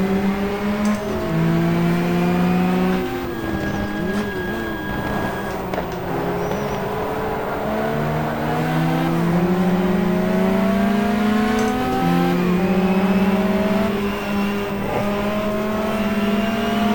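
Race cars lap the Jarama circuit in the racing game GTR2, 1994-era GT machinery including a classic red Ferrari. Engines drone loud and continuous, pitch rising and falling through shifts as several cars run close together with no talk.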